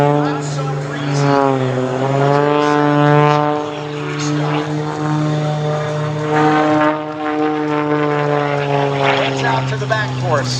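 An MXS aerobatic propeller plane climbs at an air show, its loud buzzing engine drone rising and falling in pitch throughout. An announcer talks over the sound.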